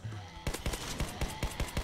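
Rapid automatic gunfire in a Roblox zombie apocalypse game, a quick string of sharp repeated shots in a steady rhythm, loud and close after a short quieter lead-in.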